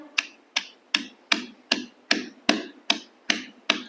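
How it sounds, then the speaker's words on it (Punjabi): Onion is pounded in a stone mortar for mint, pomegranate-seed chutney, ten sharp, evenly spaced thuds, close and clear, with no talk. "ਹੁਣ ਆਪਾਂ ਇਹਨੂੰ ਪਿਆਜ਼ ਨੂੰ ਵੀ ਕੁੱਟ ਲਾਂਗੇ"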